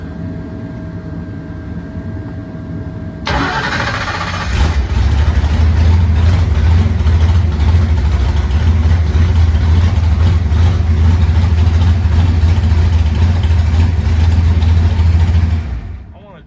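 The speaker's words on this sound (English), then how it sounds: "It just fired right up." A no-prep drag race car at Rockingham Dragway cranks for a moment, fires up abruptly, then settles into a loud, steady, deep rumbling idle that holds close and unbroken until it cuts off near the end.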